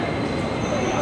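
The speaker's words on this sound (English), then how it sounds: "You can see a train pulling in back there." A subway train pulls into a station on the Beijing line toward Tiananmen, a dense rumble with faint wheel squeal filling the underground space.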